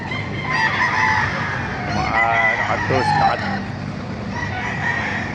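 Roosters crow over a busy chicken market din in Baliuag, Bulacan, with hens clucking and a steady background murmur throughout.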